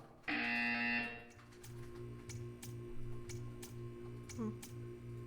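A harsh electronic buzzer in Portal 2 blares for about a second, followed by soft rhythmic ticking and a low hum, with a brief chirping tone near the end.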